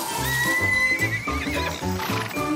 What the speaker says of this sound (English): And that's a horse.